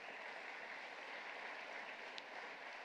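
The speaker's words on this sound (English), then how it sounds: "Well, a big applause to all of you." Audience applause at a university venture showcase event, a soft, even patter of clapping from a crowd, continuous and faint throughout.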